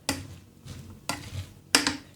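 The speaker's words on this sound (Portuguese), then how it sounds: "E o nosso arroz já pronto. É só mexer um pouquinho." A spoon stirs cooked rice with pork and miso in a Xiaomi electric pot, three distinct scraping strokes in a slow, regular rhythm, close and moderately loud with no talking.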